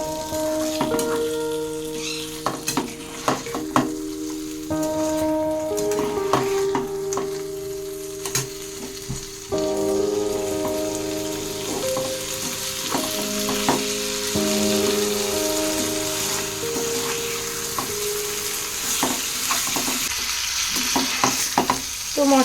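Fried prawns being sautéed with spices in a pan, a steady close sizzle with repeated scraping and stirring strokes of a spatula throughout.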